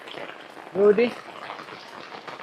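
Steady rain pours down outdoors in a rural Philippine yard where copra is drying, a broad soft hiss throughout with a brief voice cutting in partway.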